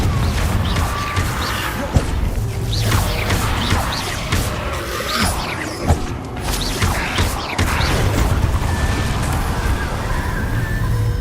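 Fire spell blasts in Hogwarts Legacy, repeated booming explosions and crashes in a dense, loud stretch of game combat with crackling bursts throughout.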